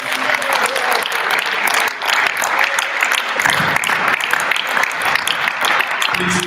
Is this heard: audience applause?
yes